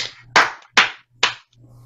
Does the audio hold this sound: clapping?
yes